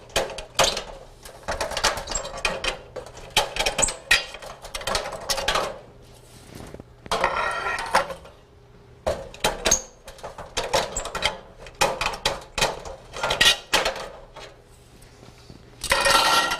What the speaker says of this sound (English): your next step is to remove the existing lamps, T8 or T12.